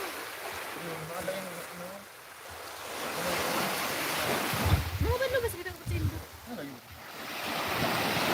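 Ocean surf at Mataas Beach on Cagraray Island washes in as a broad, steady hiss, with a voice talking intermittently over it.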